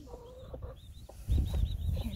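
A broody hen with her newly hatched chicks, giving soft low clucks with thin high peeping close by, in short irregular bursts that grow slightly louder toward the end.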